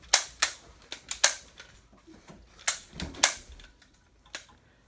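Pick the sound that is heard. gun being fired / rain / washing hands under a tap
gun being fired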